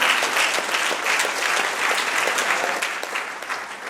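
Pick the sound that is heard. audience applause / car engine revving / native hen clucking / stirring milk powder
audience applause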